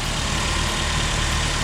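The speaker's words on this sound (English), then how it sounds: "The engine sounds good. It sounds like it's not missing" Nissan Altima 2.5 liter four-cylinder engine idling steadily after a spark plug replacement, a close, even low rumble with constant broadband hum and no misses.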